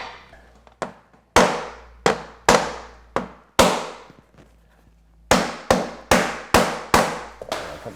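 Sharp hammer blows knock vinyl plank flooring into place under trim, a dozen loud, close, separate impacts, each with a quick decay, in uneven bursts separated by short pauses.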